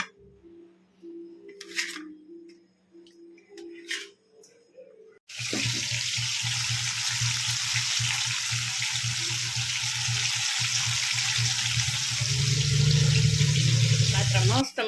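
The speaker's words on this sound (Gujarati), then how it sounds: "ચાલો આપણે એના સરસ મજાના મમ્મી નાના નાના કટકા કરવા માંડ્યા છે ને પછી એનો વઘાર કરી લઈએ" Chopped taro leaf rolls tempered in a hot pan, a loud steady sizzle bursting in partway through and continuing to the end after a quieter stretch of clinking and voices.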